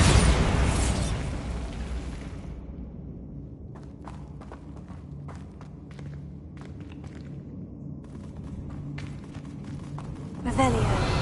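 A Bombarda spell explodes in Hogwarts Legacy, with a loud burst at the start and another near the end over dense game ambience and scattered crackling hits.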